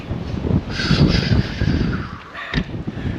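Strong wind roars across a mountain summit, buffeting the microphone in loud, continuous gusts that swell and dip for a few seconds.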